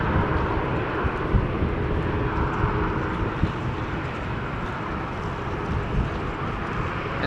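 An aircraft takes off from runway 24 at Amsterdam Schiphol Airport on a rainy, wet day, a broad, steady jet roar filling the scene with little change in loudness over several seconds.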